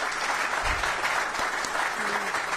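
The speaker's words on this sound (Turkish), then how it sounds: "Bir alkış alın değil mi?" Audience applause at a trade fair, a steady, dense clapping from a crowd that fills the whole stretch at even loudness.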